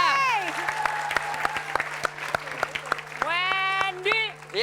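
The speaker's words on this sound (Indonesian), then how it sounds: "Tepuk tangan dulu dong buat Ayang Ya. geng." Applause from a studio audience on an Indonesian comedy show, with brisk clapping running under playful voices and sliding vocal sounds throughout.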